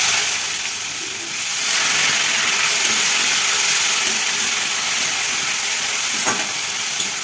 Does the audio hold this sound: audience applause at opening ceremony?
no